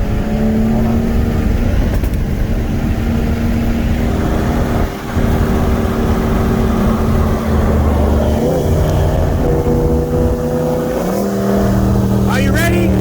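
A 2019 Dodge Charger 392 with intake and cat deletes racing a 2018 BMW 340i with a downpipe from a 60 mph roll: sustained loud engine drone rising in pitch with gear changes, heard from inside a car, with people talking.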